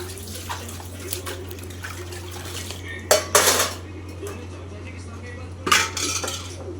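Dishes, pots and cutlery being washed in a village home, with faint water and soft handling noises over a steady low hum, broken by a few sharp metallic clatters of utensils knocking together.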